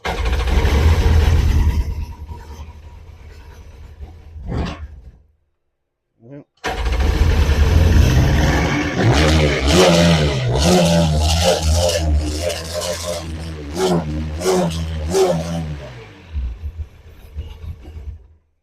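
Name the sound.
jet ski engine starting and running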